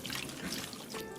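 Running water pouring over a giant trevally stomach as it is washed at a sink, a soft, steady splashing stream, faint and close.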